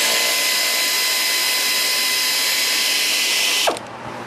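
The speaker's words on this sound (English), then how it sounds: "remove the bolt here and the two that are down here on the coolant bottle" A ratchet spinning out 8mm bolts from a coolant bottle during a Gates water pump installation, a loud continuous rapid clicking close up that stops abruptly near the end.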